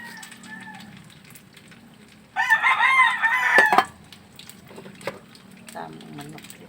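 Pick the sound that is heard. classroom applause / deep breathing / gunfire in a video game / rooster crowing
rooster crowing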